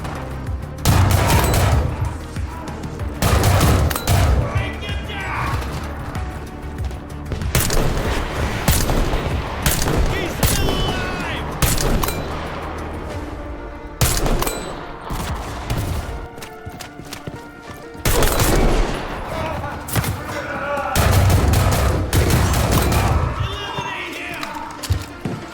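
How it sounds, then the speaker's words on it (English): Gunfire and bullets in the video game War Thunder infantry combat, dense bursts of rapid automatic fire and sharp shots in loud clusters separated by short lulls, mixed near and distant. "I hear very not nice bullets and stuff"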